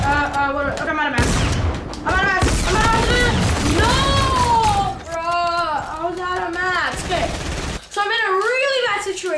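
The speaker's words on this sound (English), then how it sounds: "wait, that's the railgun" Railgun fire and explosions in Fortnite battle rapidly and loudly through an intense stretch of combat, with bursts and booms under a person's continuous excited talking.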